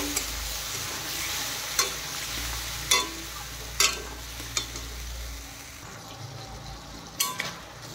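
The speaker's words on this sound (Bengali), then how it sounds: "এখন সব উপকরণ একসাথে ভালোভাবে আলুর সাথে কষিয়ে নেব।" Spice paste being sautéed with potatoes for a fish roe curry, a low continuous frying sizzle with occasional sharp spoon or spatula knocks against the pot at irregular intervals.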